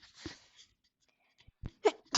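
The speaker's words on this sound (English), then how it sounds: "I tried to mute myself just now when I sneezed and I did not succeed." A single close sneeze with a sharp inhaled lead-in and an explosive burst, followed by a couple of short breathy sounds, during an online math lesson.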